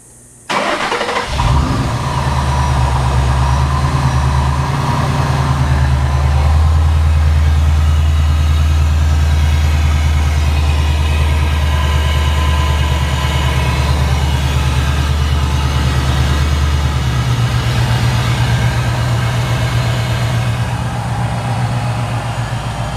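A 2012 Ford Mustang GT engine fires up after an oil change and settles into a loud, steady, deep rumbling idle close by, continuing unbroken with no one talking.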